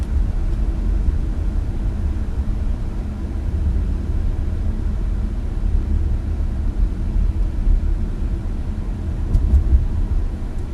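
Alpina B7 sedan driving through a turn, heard from inside as a steady low engine and road rumble with a slight swell near the end, no talking.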